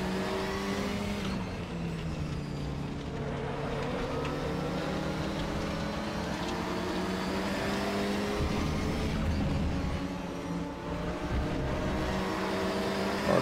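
Engine of a GT4 race car in RaceRoom Racing Experience held under full throttle, a loud, steady, high-pitched roar with rising and falling revs through the gears, continuous and close with no talk.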